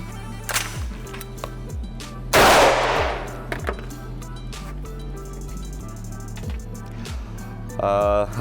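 A single sharp airsoft gunshot bursts loudly midway through, amid scattered clicks and handling noise over a low steady hum, with a brief rattling burst near the end.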